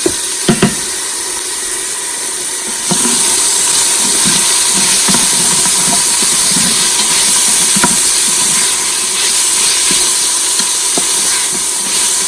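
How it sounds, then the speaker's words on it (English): Onions sautéing in an Instant Pot give a loud, steady hiss that jumps up after a few seconds and holds, with faint crackles running through it and nobody talking. "You want to cook these onions up until they're really soft and translucent and a little bit brown on the edges"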